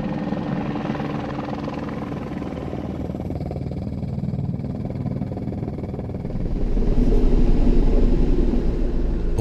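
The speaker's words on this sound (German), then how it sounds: "der Heli schwebt drüber, bis alles ausgekippt ist und balanciert aufs Neue los" A helicopter hovers overhead while dumping a load of lime from a heavy hopper, its loud, steady rotor chop and engine rumble swelling even heavier near the end, with no voices over it.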